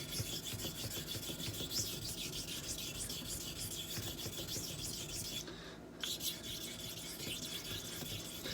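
A Filarmonica 14 straight razor is rubbed back and forth across a worn 400-grit diamond plate with slurry to set the bevel, giving a continuous close, wet rasping scrape with a brief pause partway through.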